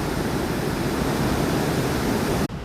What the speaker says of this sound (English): Listen to the roar of the water.